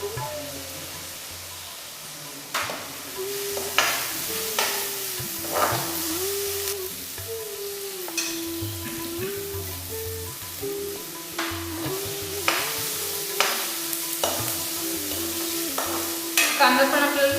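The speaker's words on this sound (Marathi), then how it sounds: "कांदा पण आपल्याला थोडासा लालसर होईपर्यंत भाजून घ्यायचा तेलामध्ये" Finely chopped onion fries in oil while being stirred, a steady sizzle broken by repeated sharp scraping strokes of a spatula against the pan, with a low hum running underneath.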